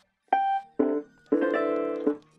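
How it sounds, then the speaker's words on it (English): A synthesizer's nylon guitar preset plays four short plucked notes, each with a sharp attack and quick decay, the last ones ringing longer, clear and alone with no talk. "Preset 20 is called Nylon Guitar"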